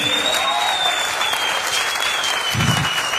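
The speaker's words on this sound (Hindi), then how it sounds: "जोरदार ताली होनी चाहिए" Audience applause fills the room at a farm training session on agricultural products, a steady, dense clatter of many hands clapping close by and sustained throughout without pause.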